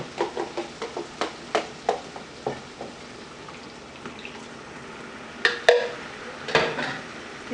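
Eggplant in peanut curry with coconut milk sautéing in a pan, with a soft sizzle underneath and a series of sharp utensil scrapes and taps against the pan at an irregular rhythm, close and clear.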